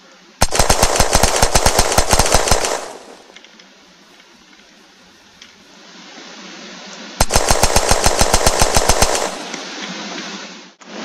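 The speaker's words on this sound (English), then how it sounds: "We're going to give this thing about 15 shots up close and then 15 shots from far away" Rapid gunfire from an M4-based rifle in the video game Unturned, with two loud bursts of quick evenly spaced shots separated by a quieter pause with faint lingering echo.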